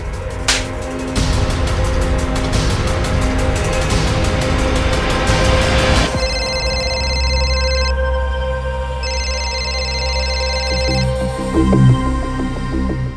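A mobile phone ringtone plays loudly and close, a melodic electronic tune that shifts into a repeating pattern of bright, evenly spaced tonal bursts with short gaps between them.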